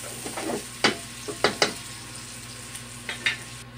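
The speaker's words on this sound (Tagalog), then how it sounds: "Alright, saute-saute lang kaibigan." Pork kasim sautéed for mechado in a pan, with short scraping stirs and bursts of sizzling coming in uneven clusters, close and moderately loud.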